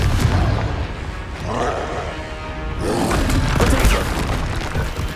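Magic spells blast and explode in Hogwarts Legacy, a series of booming impacts and roaring bursts in quick succession, loud and close, with a heavy surge in the second half.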